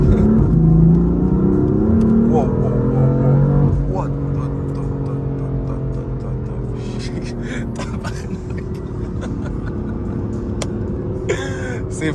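A 2015 BMW M4 running Eurocharged software revs its exhaust, heard from inside the cabin as a steady engine drone with rising tones. The sound is loudest early, then eases to a lower hum under occasional voices and coughs.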